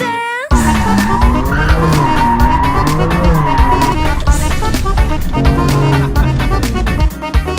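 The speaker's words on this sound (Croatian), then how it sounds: "Znam driftat, ali ovaj auto ne znam kako se ponaša" A BMW M2 drifting on a race track, loud sustained tyre squeal over a revving engine that rises and falls through long slides, close and continuous with no talking.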